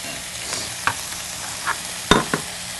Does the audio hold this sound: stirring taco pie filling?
yes